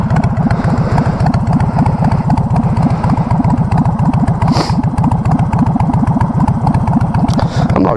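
A Harley-Davidson Sportster motorcycle idles steadily up close, its engine thumping in a fast, even, loping rhythm throughout.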